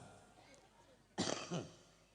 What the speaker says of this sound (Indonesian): Eta batuk nu kitu ngaranna.